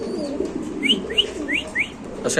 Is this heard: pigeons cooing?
yes